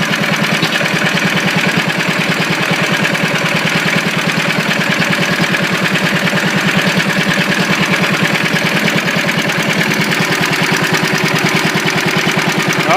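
An old engine runs steadily while warming up, a loud, close, continuous idle with a fast pulsing throb that holds even for the whole stretch with no talk.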